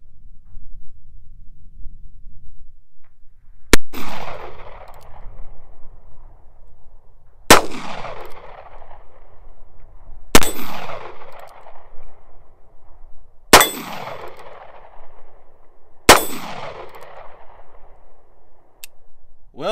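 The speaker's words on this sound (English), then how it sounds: "let's go see if I can't hit that steel plate with the Magnum cartridges" Heritage Barkeep revolver firing Magnum cartridges at a steel plate outdoors: five sharp, loud shots spaced a few seconds apart, each followed by a ringing metallic clang and a decaying echo.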